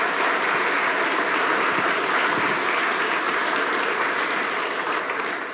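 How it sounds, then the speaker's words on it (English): Audience applause following a farm technology presentation, a dense, steady clapping from a sizeable crowd that holds loud throughout before easing slightly at the end. "A good hand of applause, please, for this presentation."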